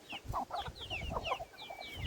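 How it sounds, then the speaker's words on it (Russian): Chickens clucking as they feed in a poultry yard, a close, busy chorus of short clucks and chirps, with no talking. "Куры все жрут."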